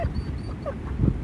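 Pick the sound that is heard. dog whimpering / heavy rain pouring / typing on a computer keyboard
dog whimpering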